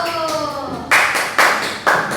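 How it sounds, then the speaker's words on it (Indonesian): A primary school classroom gives a group of students a round of clapping: after a brief tone, three loud, distinct bursts of many hands clapping together in a steady rhythm. "Tepuk tangan dulu kelompok 1."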